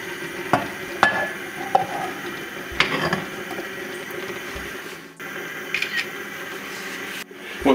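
Mushrooms fry and get stirred in an Afghan kazan for hunter-style buckwheat, a steady sizzle broken by several sharp scrapes and clinks of a utensil against the pot, with no talking.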